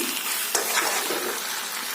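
Mawa fries in chicken curry as it is stirred, a close, steady hiss of sizzling with soft scraping strokes from a spoon through the pan.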